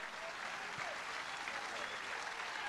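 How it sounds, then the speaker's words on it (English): A crowd in Pensacola applauds, a steady wash of clapping that stays fairly distant and quiet from start to finish, with no clear voices on top. "I figured I'd get a nice round of applause here in Pensacola."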